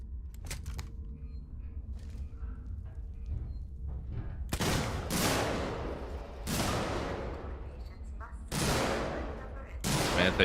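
Several loud gunshots from a six-shot revolver in a video game, each a sharp blast with a long decaying tail, spaced roughly two seconds apart after a quieter stretch of low rumble.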